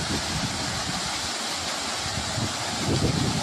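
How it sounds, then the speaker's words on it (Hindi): A natural waterfall in the Margalla Hills at Pine City gives a steady, dense rushing roar of falling water, loud and unbroken throughout, with no voices. "ये पाइन सिटी के अंदर जो वाटरफॉल है वो आप देख रहे हैं, नेचुरल वाटरफॉल और ब्यूटीफुल वाटरफॉल है ये"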